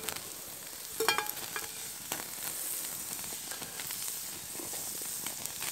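Butter sizzling in a non-stick pan during an outdoor lunch, a continuous hiss with a few sharper spits and pops near the start, steady and close, no talking.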